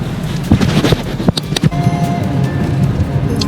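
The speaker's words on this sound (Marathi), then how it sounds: "घोडबंदर रोडला ट्रॅफिक आहे" Road traffic on Ghodbunder Road, with passing cars and wind buffeting the microphone, a continuous moderately loud roadside rumble with brief louder swells.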